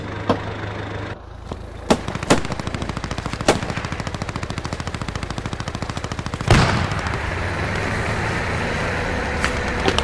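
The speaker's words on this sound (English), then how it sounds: "I'm being shot at" Machine gun fire rattles in the World War II shooter Post Scriptum, long sustained bursts of rapid shots with a few sharper louder cracks and a heavy nearby blast partway through, over a steady engine drone.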